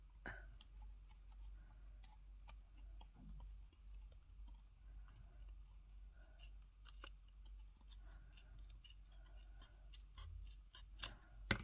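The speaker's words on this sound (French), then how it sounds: "on peut finir de découper l'excédent" Scissors snip away the excess paper from a handmade sliding-closure card, a series of faint, crisp cuts at irregular intervals, close up and quiet, with no talking.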